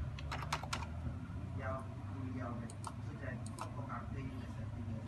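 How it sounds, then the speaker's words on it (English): Password being typed on a computer keyboard for Avtech CMS Video Viewer software: a quick run of close, crisp key clicks in short bursts over a low steady room hum. "then you key in the password."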